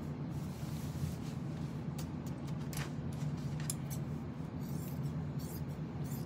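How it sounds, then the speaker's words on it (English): Scissors snip up the seam of a shirt, giving quiet, irregular crisp cuts over a steady low hum. "So all I'm doing is I'm going to cut up the seam of this shirt."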